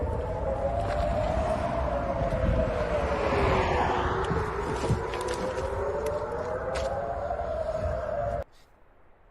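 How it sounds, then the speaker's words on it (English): A rocket warning siren wails over Tel Aviv while residents take cover on a highway: a steady, rising and falling tone that carries for several seconds over a broad rumble of background noise, then cuts off abruptly near the end. "Residents take cover in the middle of a highway doing rocket sirens in Tel Aviv."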